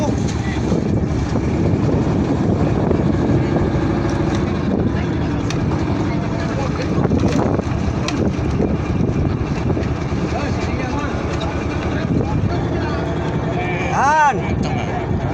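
A boat engine runs on a fishing trip, a loud, steady drone with a rough mechanical hum that continues throughout. People talk over it.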